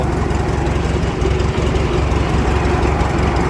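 A McCormick-Deering 10-20 tractor engine idles loudly close by, a steady, throbbing low-pitched chug with a regular pulsing rhythm and no talk.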